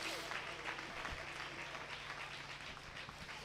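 Congregation clapping in a church service at Zion Worship Centre, Vagamon, a steady, dense wash of many hands sustained throughout under a low hum of the room.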